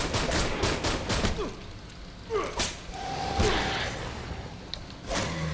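Pistol gunfire in the video game Aliens: Colonial Marines, a string of sharp shots in quick bursts with gaps, mixed with game whooshes and impacts, moderately loud with no speech.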